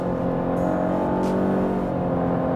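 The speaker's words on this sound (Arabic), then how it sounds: "خليني أرجع أسمعكم شو CVT بيعمل لما تتسارع بالسيارة." A 2018 Renault Koleos with a CVT gearbox accelerates, its engine holding a steady, droning hum with a continuous whir, heard from inside the cabin without any shifts or pauses.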